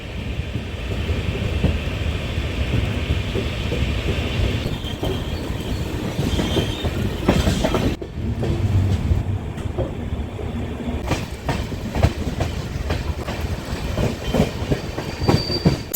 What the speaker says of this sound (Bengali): ফাইনালি হাওড়া স্টেশনের একেবারে সম্মুখভাবে এসে আমাদের ট্রেন গিয়েছে দাঁড়িয়ে